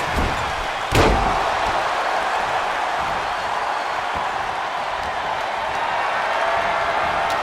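A heavy body slam lands once, loud and sharp, in a WWE 2K25 WarGames match, rising out of a steady roar of arena crowd noise that continues throughout.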